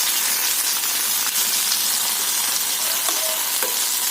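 Tomatoes blister in oil in a pan for a roasted chutney, giving a constant loud hiss and crackle with faint scraping near the end and no talk.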